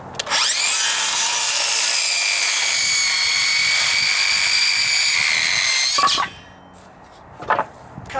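A circular saw with a carbide-tipped blade rips through a deck board, one loud sustained cutting whine of about six seconds that stops abruptly, followed by a short spin-down and a few faint knocks.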